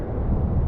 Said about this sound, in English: could feel the strength of this wind. You can probably hear it.